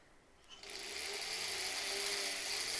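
A sewing machine sews quilt squares. It is quiet at first, then the motor catches at about half a second and settles into a steady, even whirring hum nearby. No one speaks.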